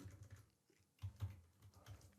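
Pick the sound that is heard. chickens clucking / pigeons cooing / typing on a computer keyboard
typing on a computer keyboard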